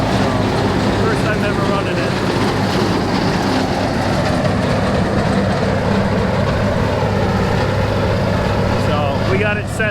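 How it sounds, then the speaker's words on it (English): Hay mower running steadily in a field during a second cutting, a loud continuous engine drone with constant mechanical rumble throughout, close and unbroken, with a voice faintly underneath. "We got Josie running the mower and she's doing a good job"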